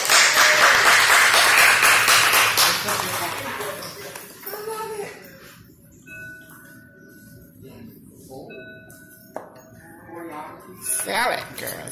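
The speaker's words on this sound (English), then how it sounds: "Warm round of applause for Ms. Ruby, everybody." Audience applause at a live show erupts loudly at the start as a dense crowd clapping, then fades out after about four seconds, followed by scattered voices and quieter room sounds.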